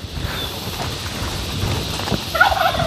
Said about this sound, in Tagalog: Isang beses na nag-hip-hip yung pabo natin